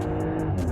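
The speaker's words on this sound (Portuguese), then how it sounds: "ronco da troca de marcha" Porsche Cayenne Coupe biturbo engine roaring steadily and close at high revs, a continuous low rumble with faint hissy bursts through a gear change.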